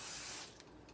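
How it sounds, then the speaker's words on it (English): Cooking spray hisses onto a pan in one brief, close, fairly quiet burst that fades after half a second. "I'm gonna spray my pan"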